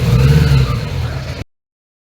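A Honda Goldwing GL1100 motorcycle engine runs unevenly for about a second and a half, struggling to hold idle during carburetor sync, a low rough drone up close that cuts out abruptly into silence before briefly resuming.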